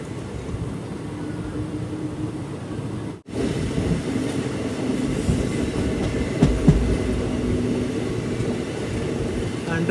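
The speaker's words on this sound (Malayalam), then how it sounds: "ട്രെയിൻ ഇപ്പോൾ ഉപ്പള സ്റ്റേഷനിലെത്തി" The Malabar Express passenger train runs through steady wheel rumble and rail clatter as it pulls into Uppala station, with faint squeals near the end and voices in the background.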